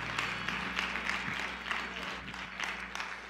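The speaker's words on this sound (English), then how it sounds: "Let's give God a hand clap." A church congregation claps hands together in a sustained round of applause, moderately distant and even, with a faint low hum underneath.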